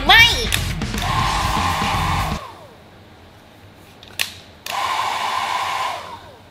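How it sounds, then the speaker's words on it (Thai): A handheld hair dryer blows loudly onto a pen drawing meant to puff into popcorn, cutting off midway, followed by a short knock, then roaring back on close to the mic. "30นาทีผ่านไปแล้วเราจะมารอใช้ไดร์เป่าผมดูนะคะ"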